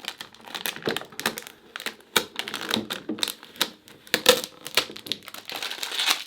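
A Cricut Joy vinyl label being slowly peeled from its backing, giving close, irregular crinkling and crackling ticks with no talk.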